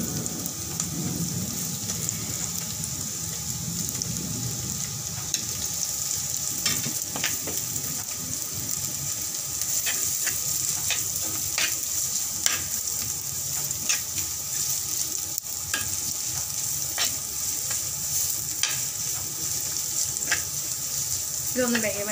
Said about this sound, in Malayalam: ഇതിപ്പോൾ നമ്മുടെ ചെറിയുള്ളി ചെറുതായിട്ട് ഒന്ന് വെന്ത് വരുന്നുണ്ട്.